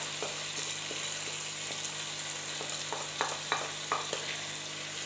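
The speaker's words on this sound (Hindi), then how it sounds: "ऐड करने के बाद हम इसको अच्छी तरह से मिक्स कर लेंगे ताकि सब मसाले चिकन के साथ मिक्स हो जाए" Chicken with spices, coriander powder and garam masala stirred in a frying pan for a mixed-vegetable sabzi, with a steady sizzle and repeated spoon scrapes and clicks growing a little busier toward the end.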